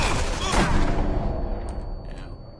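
Gunfire in the video game Sniper Elite V2 bursts out loud and close as a dense volley that rolls and fades over a couple of seconds, with a few faint higher game tones trailing at the end.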